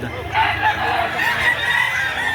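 Chickens crow and cluck at a poultry market, a dense mix of bird calls, near and fairly loud, heard against the busy background of the market.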